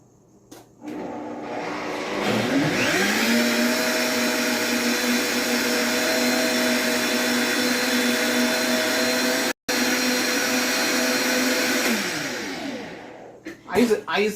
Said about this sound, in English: I use the Vitamix